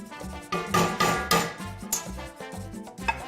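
Crumbled chorizo is pressed flat in a cast iron pan with a utensil, giving repeated scraping and clanking taps against the metal over a sizzle, close and fairly loud.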